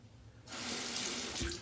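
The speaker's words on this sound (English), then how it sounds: "I apologize for the running water" A bathroom tap is turned on during a wet shave. After a moment of quiet, water runs in a steady, close rushing stream that carries on to the end.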